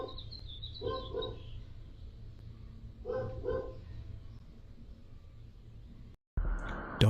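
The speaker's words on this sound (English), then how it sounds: "Dog barking the whole damn time." A dog barks faintly in the distance inside a family home, two short clusters of barks over a low background hum, followed by a brief louder burst of noise near the end.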